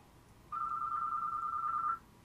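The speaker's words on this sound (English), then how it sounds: "Dang phone, I'm recording." A phone rings once indoors with a single steady electronic tone lasting about a second and a half, clear and alone against quiet room hiss.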